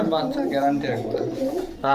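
Caged pigeons at a pigeon market in Bogura coo in low, throaty rolling calls close by, with people talking over them.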